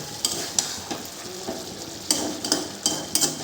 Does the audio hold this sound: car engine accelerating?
no